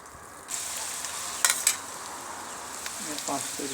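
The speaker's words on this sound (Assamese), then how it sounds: "এতিয়া ভাজিম পিঁয়াজ আৰু জলকীয়া ফ্ৰেঞ্চবিনখিনি" Onion, chili and French beans fry in a pan for a quick egg chow mein, giving a steady soft sizzle with a couple of sharper crackles partway through and faint stirring near the end, with no talking.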